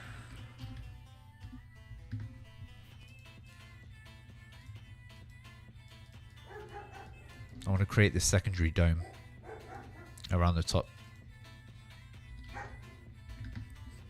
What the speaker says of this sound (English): my dog was barking and I have to check